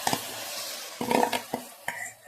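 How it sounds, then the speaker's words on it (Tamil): Washed rice and lentils tip into a pot of sautéed ingredients for a Kovai-style rice and dal dish, giving a few short, close clattering and rustling bursts against the pot. "தூக்கி அரிசி பருப்பு கொட்டிக்கலாம்"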